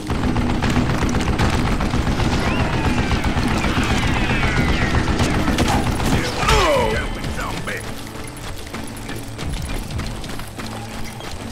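Rapid gunfire from a mounted gun in Call of Juarez: Gunslinger, dense mechanical rattling bursts for about six seconds, then easing into quieter clanks and scattered shots.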